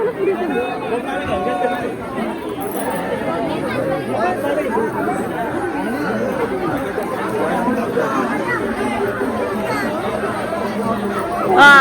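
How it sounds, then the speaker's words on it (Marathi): Dense crowd chatter on crowded temple steps at Jejuri, a steady close babble of many voices filling the space throughout, with a speaker talking over it. "बघा किती गर्दी आहे आणि आम्ही अजून पायऱ्यांच्या इथंच आहेत"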